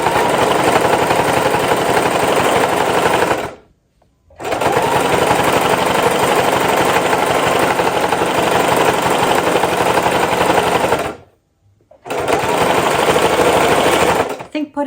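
Sewing machine stitching a leather pouch, running in loud continuous bursts with two short pauses, the rapid needle chatter filling the clip close up.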